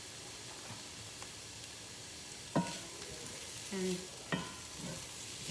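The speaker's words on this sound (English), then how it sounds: "That's when that fresh ginger hits the heat" Fresh ginger fries in a hot pan for cauliflower fried rice, with a low constant sizzle broken by a few sharp stirring clacks and short scrapes and one brief spoken word.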